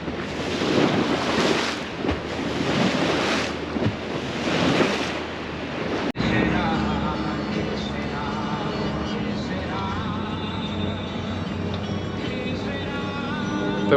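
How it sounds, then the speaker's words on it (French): A boat rides over ocean waves off Sandy Hook, New Jersey, with strong wind buffeting the microphone in loud surging bursts before settling into a steady engine-and-water rush. "On va prendre les vagues. Ça vous donne un aperçu."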